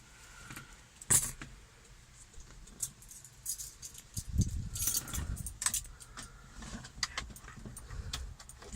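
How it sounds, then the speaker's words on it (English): Keys jangle close by while being fished out near a 1988 Toyota Hilux pickup truck, a sharp metallic rattle at first, then a longer stretch of clinking and rustling handling sounds. "if I can get my keys"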